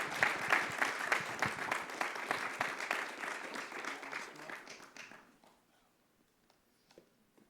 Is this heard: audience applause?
yes